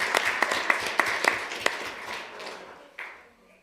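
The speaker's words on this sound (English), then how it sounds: "Let's give them one more round of applause." Applause from a community development board meeting audience: a handful of sharp, spaced claps that thin out and fade, ending with one last soft burst.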